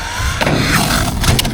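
A HyperGo 14304 VW WRC RC rally car slides through a four-wheel drift, giving a steady, close rasp of tires scrubbing across the surface with a faint motor whine.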